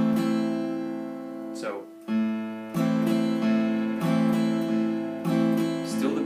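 An electric guitar rings out a bass note followed by quick down-up chord strums, repeating in a steady rhythm with a short pause midway.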